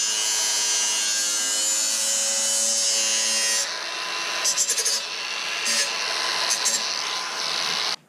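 A power tool cuts small pieces for a homemade pedal extension on a driveway, a loud steady high whine that drops in pitch partway through, with brief stuttering bursts before it cuts off.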